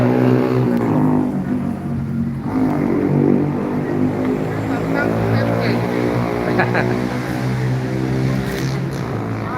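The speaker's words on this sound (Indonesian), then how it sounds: "Ada bus lagi." A bus drives past with a steady, droning engine rumble and rising road noise, close and continuous, with people talking over it.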